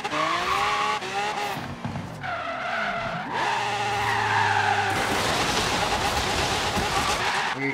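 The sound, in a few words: car tires skidding after pulling e-brake, Forza Horizon 3 video game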